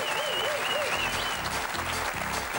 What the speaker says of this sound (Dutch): graag uw applaus voor Arsène Noppe